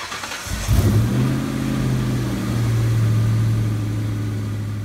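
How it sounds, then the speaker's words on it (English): A 1996-2004 Ford Mustang GT with the 4.6 engine, freshly fitted with a new radiator, cranks and fires after a brief quiet moment, then settles into a steady, close, low idle rumble. "When it reads full, it's time to start the car."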